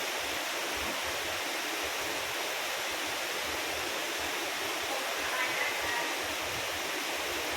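Steady rain pouring down without letup, a dense, even hiss that fills the whole clip at a constant level, with no pauses or other sounds breaking through.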